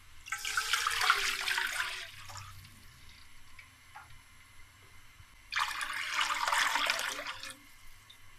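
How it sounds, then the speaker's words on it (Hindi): Water is poured into a hot pot of oil for cooking half a kilo of rice in a home kitchen, heard as two loud, splashy pours of about two seconds each separated by a quiet pause. "तो 1 किलो हम पानी डालेंगे अंदर।"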